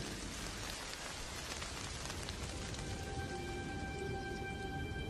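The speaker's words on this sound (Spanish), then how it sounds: "Las tormentas producen vientos desapacibles y descargan sobre las mariposas gruesas gotas de lluvia." Heavy storm rain falling in a nature documentary scene with butterflies: dense, continuous patter and hiss of rain on surfaces, steady and close, with a faint tonal whine appearing late.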